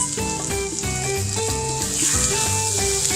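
Mutton liver sizzling and frying in a pan, a steady loud crackle throughout, with light clinks and stirring under a background of music-like tones.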